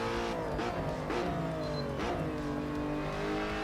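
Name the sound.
Lotus Evora engine revving in racing sim video game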